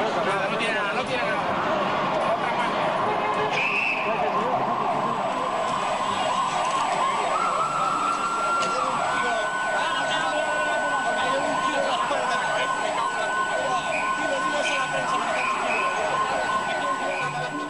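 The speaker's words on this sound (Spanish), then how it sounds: "Ahora viene una ambulancia." An ambulance siren wails steadily in the distance, its rising and falling tone running the whole time under a busy street scene with overlapping voices.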